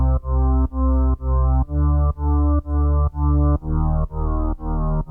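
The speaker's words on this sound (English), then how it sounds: "I've also just gone ahead and used a bass from the flex patch inside of FL." Synth bass from an FL Studio Flex patch pulses in about ten evenly spaced, sustained notes, each dipping briefly before the next, playing alone and clear.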